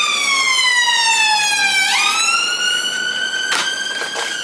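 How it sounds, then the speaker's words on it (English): An emergency vehicle siren passes on a London street, loud and close, its wailing tone sweeping down and then rising again, with a few sharp knocks near the end. "Another siren."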